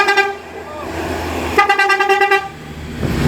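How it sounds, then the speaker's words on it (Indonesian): An express bus pulling into a terminal in Padang Pariaman sounds a musical multi-tone horn, first a short blast and then a longer pulsing melodic run, loud and close over engine rumble and voices. "Arah Padang Pariaman masuk unit bus transport ekspres."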